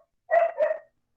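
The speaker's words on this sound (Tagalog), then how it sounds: "Maingay ang aming mga aso." Two quick barks from a dog, close and loud, one right after the other, then silence.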